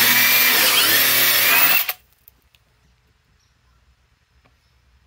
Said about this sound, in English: Let's put a bigger hole here.